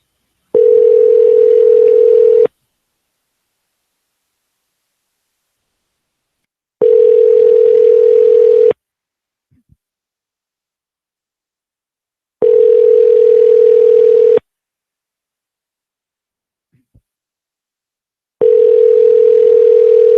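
A telephone call tone over the line: four long, steady, even beeps, each about two seconds, separated by roughly four-second silences, loud and clean with nothing else between them.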